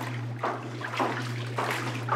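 Laundry being rinsed by hand in an Amish home: soft sloshing and splashing comes in a few separate surges over a constant low electrical hum, close by and moderately quiet, with no voices.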